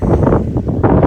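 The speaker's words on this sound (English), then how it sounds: "And it's really windy and it's really sunny" Loud, gusty wind buffets the microphone outdoors on a sunny wintry day, rumbling in uneven surges with a brief lull before a fresh blast near the end.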